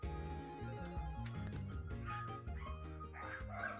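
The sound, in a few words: dogs barking outside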